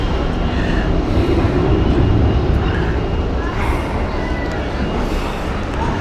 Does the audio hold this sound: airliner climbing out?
yes